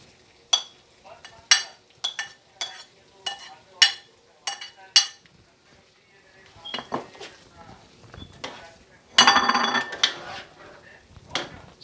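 Chopped onions going into minced meat frying in a pan: a run of sharp metallic clinks and scrapes of a spoon against the pan, then a brief louder sizzle and more stirring knocks.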